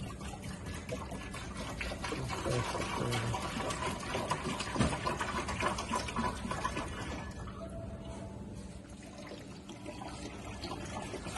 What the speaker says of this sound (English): we're going to fill this now 4 times with water